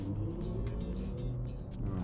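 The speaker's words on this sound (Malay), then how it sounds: "Pun bunyi macam alien spaceship juga, tapi lain sikit, macam bunyi angin sikit." Mini JCW Electric in personal drive mode giving a synthetic spaceship-like hum with a breathy, windy edge, heard steadily over low road and tyre rumble from inside the car.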